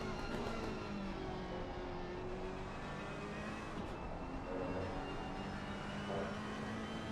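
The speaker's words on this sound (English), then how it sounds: "A lap at Paul Ricard with Santa Maria." In a racing video game, a race car engine screams through a lap at Paul Ricard, its constant high revving drone rising and falling with gear changes, loud and unbroken with no talking.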